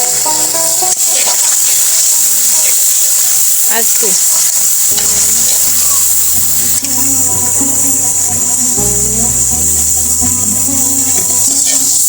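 Duck meat fries with turmeric in a pan, a loud continuous close sizzle and crackle with scraping stirring strokes throughout.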